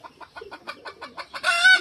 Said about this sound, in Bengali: এই সুন্দর বাসাটিতে মুরগিটি এক এক করে দুটি ডিম পারল।